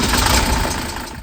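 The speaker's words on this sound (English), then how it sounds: "now going to start the engine up and we'll be able to check for leaks" Diesel car engine with glow plugs starting up on a warm day, a loud close mechanical clatter that settles briefly and then cuts off, no speech.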